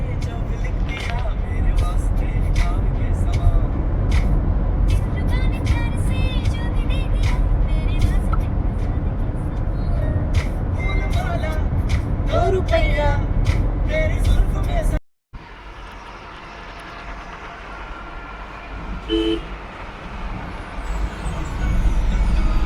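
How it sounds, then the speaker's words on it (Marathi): A Saturday road traffic jam on a road trip to Srisailam, with a steady rumble of car and bus engines and scattered horn toots. A short dropout comes before quieter idling traffic, and no talk is heard. "सो आम्ही अशा प्रकारे ट्रॅफिकमध्ये अडकलोय सॅटर्डेच्या"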